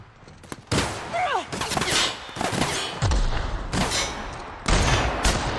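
Rapid bursts of gunfire from a sci-fi shooter, The Outer Worlds, crack out in several loud volleys with heavy booming impacts, separated by brief gaps and mixed with faint game chatter.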